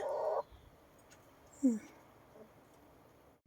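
White hens cluck briefly, with a short burst at the start and another single cluck a moment later, separated by a quiet stretch of faint background noise.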